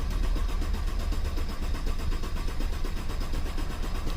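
A 2006 Mercedes-Benz C350 4Matic engine cranks over steadily and loudly close by, a continuous low churning with a fast rhythmic pulse and no catch, running for several seconds with no voices.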